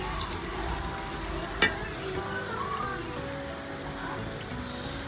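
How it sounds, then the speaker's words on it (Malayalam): Finely chopped onions, curry leaves with their stems and green chillies sizzle in oil for a beef curry, a steady close crackle with one brief clatter partway through. "ഉള്ളി എടുത്ത് ചെറുതായി കട്ടാക്കിയിട്ട് അതിലേക്ക് കുറച്ച് ഓയിൽ ഒഴിക്കുന്നത്. പിന്നെയെന്ന് പറഞ്ഞാൽ കറിവേപ്പിലും പച്ചമുളകും"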